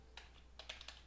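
Fingers type on a computer keyboard in a few quick bursts of close, crisp clicks separated by short pauses, ending on a sharper keystroke.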